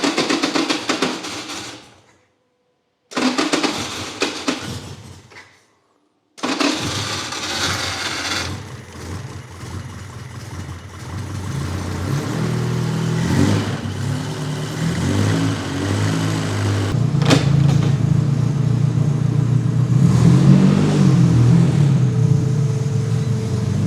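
Formula Ford race car engine being cranked, with short bursts of starter churning broken by silences. It then catches and runs, rumbling loudly and rising in a series of revs near the listener.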